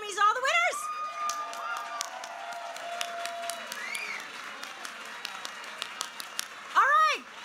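An awards-ceremony audience claps for nominees and winners, a sustained ripple of applause with scattered sharp claps and whoops rising over it, plus a loud cheer near the end.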